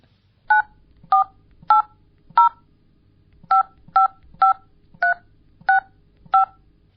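Ten touch-tone keypad beeps dial a telephone number, crisp and evenly spaced in a run of four, a short pause, then six more, with no one talking.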